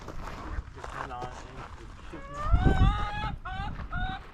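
A flock of chickens clucks and calls on a Carmel Valley ranch, rising pitched squawks coming in short repeated bursts at moderate distance while people talk over them and footsteps shuffle nearby.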